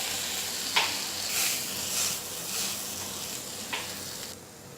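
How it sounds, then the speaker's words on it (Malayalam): Tomatoes added to frying masala in a pan for Kerala-style fish curry: a continuous moderate sizzle with a few stirring clinks and swells, no talking. "ഇനി അതിലേക്ക് തക്കാളി ചേർത്ത് കൊടുക്കുക."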